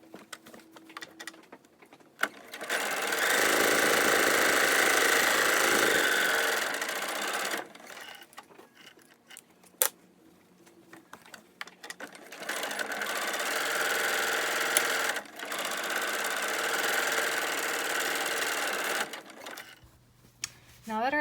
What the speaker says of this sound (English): The next step is to sew across here and here with a 1/4 inch seam allowance.